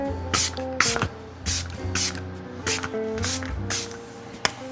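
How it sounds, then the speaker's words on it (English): Several short hissing bursts of Ole Henriksen Peach Glaze Glow Mist face spray, spaced about half a second apart, over soft background music. "So I'm going to go in with my Ole Henriksen Peach Glaze Glow Mist."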